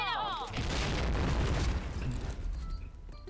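Loud rumbling grenade explosions from a video game, deep booming blasts rolling one into the next, with a voice heard briefly at the start.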